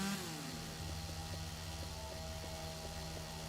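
A chainsaw buzzes steadily in the zombie action game Yakuza: Dead Souls, a continuous mechanical drone with a fixed hum running throughout, layered with game sound and no voices.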